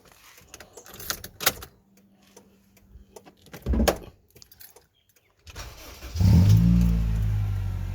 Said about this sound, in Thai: ทีเดียวติดนะ ขึ้นหมดนะครับ สตาร์ทเย็น